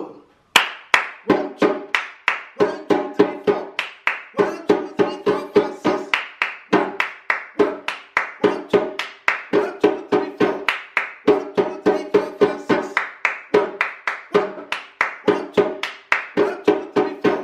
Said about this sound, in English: I'll stop clapping once you've got the hang of it.